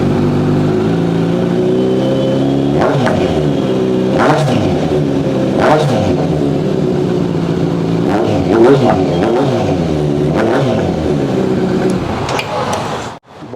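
A superbike with a custom full-system exhaust revs in several sharp blips, each rising quickly and falling back to a burbling idle, loud and close, with a few spoken words.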